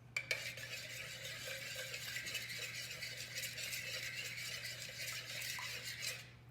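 A spoon stirs thick pumpkin bread dough in a bowl, giving a continuous scraping, rattling churn up close with a few sharper knocks near the start, over a steady low background hum.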